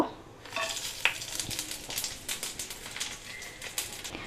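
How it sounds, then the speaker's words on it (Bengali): Whole garam masala (dried red chilli, cardamom, cinnamon and cumin) frying in a pan, a quiet close sizzle with light irregular clicks and scrapes of a stirring utensil, no talk. "গরম মশলাটা আমার একটু ভাজা হয়ে এসেছে"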